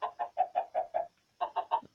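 Video game chickens cluck in a quick rhythmic run of six evenly spaced clucks, then a short gap and three more. Each sounds clear and close, with no voices over them.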